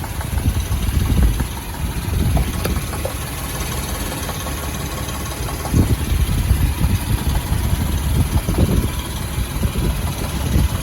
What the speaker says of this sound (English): The motor doesn't sound too good because of being so low on oil right now.